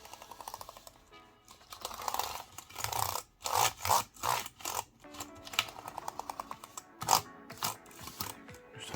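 A dry cloth being wiped over the keys and frame of an iMac keyboard, with soft rubbing strokes broken up by quick clicks and taps of keys, close by and fairly quiet.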